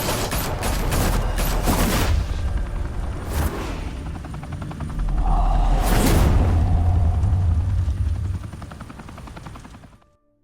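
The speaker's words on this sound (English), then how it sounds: "Open fire!" Sustained rattling gunfire in the Batman Telltale video game, dense bursts of shots over a heavy low rumble resembling a hovering helicopter, loud and continuous before tapering off at the end.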